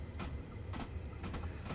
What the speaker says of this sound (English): Got another train coming in here, look, class 450. Rolling in fact 2 of them.